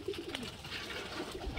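A Giribaj pigeon coos in soft, low, repeated throaty notes, close by and fairly quiet, with light background rustle and no talking.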